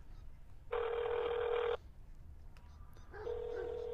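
A telephone rings twice through the line, each a steady electronic tone about a second long, with a quiet pause between rings.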